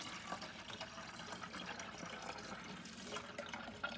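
Ginger juice pours steadily into a container, a continuous splashing trickle with no one speaking.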